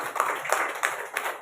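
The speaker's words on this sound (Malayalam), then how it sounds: "കൈയടിച്ചോ" A small audience at a talk claps in a few loose bursts, with separate claps standing out at a slightly uneven pace, fairly close and moderate in volume with no talking.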